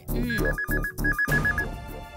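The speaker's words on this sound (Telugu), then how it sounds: "సరోజా, ఫోను పక్కనే ఉన్నారు కదా, తీసి మాట్లాడొచ్చు కదా. అది ల్యాండ్ ఫోన్ అమ్మా" A landline telephone rings in repeated electronic trilling bursts, loud and close, with two ring cycles and a tonal background under it.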